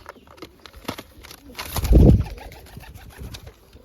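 Pigeons at a nest with chicks in a village home give a close, deep throaty coo that swells in the middle, amid light rustling and soft chirps.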